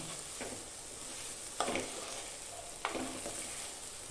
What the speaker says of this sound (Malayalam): ആ എണ്ണയും പൊടികളും എല്ലാ സ്ഥലത്തുമായി എന്നുള്ള രീതിയിലൊന്ന് ഇളക്കി